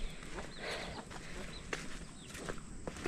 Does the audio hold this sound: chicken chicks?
yes